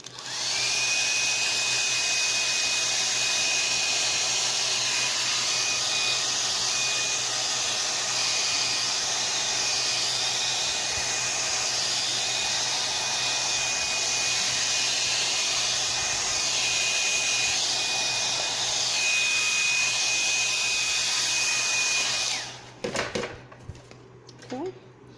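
A hair dryer blows on a landscape painting with a loud, steady roaring whoosh and a constant whine, running without a break for over twenty seconds before switching off to a few handling clicks.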